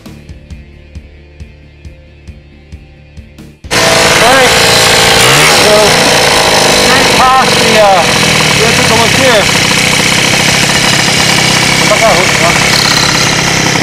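A TGB 303 Laser 50cc scooter with a 72cc racing upgrade. It starts with quieter mechanical noise, then the two-stroke engine roars loud and close, running continuously with a harsh, buzzing rasp. A voice talks faintly under the engine.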